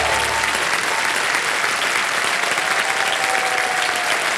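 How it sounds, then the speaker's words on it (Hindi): Loud, continuous studio audience applause on a televised quiz show, a thick unbroken roar of clapping hands at an even level, with a faint sustained music tone beneath it. "तालियां बज जाएं इनके लिए"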